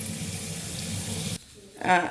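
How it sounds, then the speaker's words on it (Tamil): Water runs from a tap while raw blood for a village-style blood fry is rinsed in a kitchen. A steady stream stops abruptly, then comes a brief splash and swish of washing. "இந்த பாருங்க ஒரு நாலு தண்ணி ஊற்றி இந்த மாதிரி ஒரு நாலு வாட்டி கழுவிக்கிங்க"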